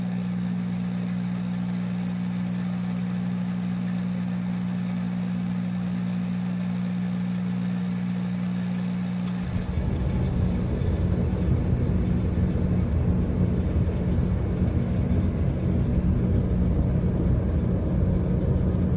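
Dyna-Glo hybrid forced-air torpedo heater: a steady electric hum gives way to a loud, roaring blast as the burner lights, then keeps running with a broad, even rumble.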